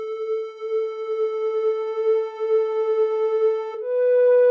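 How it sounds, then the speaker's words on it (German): A pure triangle-wave synthesizer tone played in Cubase holds as one steady, sustained note, then its timbre shifts abruptly near the end. "hier hört man dieses, diesen reinen Dreieck-Sound"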